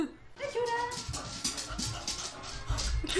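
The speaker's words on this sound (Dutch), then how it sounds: "Ik dacht, daar hoor ik een hond?" A dog whimpers and yips in short high whines, several brief cries spread across the moment, fairly close, with some background noise between them.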